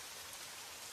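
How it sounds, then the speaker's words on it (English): Heavy torrential rain pours down in a steady, dense hiss that fills the whole second with no break and no voices. "The rain had become a torrential downpour"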